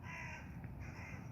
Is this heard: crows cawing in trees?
yes